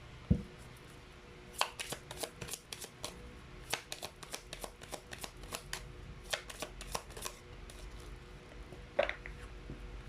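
Tarot deck being shuffled by hand, a long run of crisp riffling card flutters and soft taps, close and quiet, with no talk.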